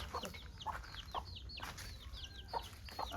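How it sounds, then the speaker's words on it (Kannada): A young household chicken chick peeps and clucks in a village garden, giving faint, high little calls in a quick, steady series at a distance. "ಇದು ನಮ್ಮ ಮನೆಯ ಕೋಳಿ ಮರಿ"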